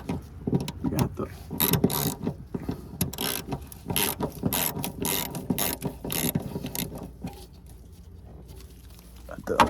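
A ratchet on an extension loosens a clamp on the fuel filter of a 2008 Ford Escape, with rapid close-up clicking in uneven bursts that trails off toward the end.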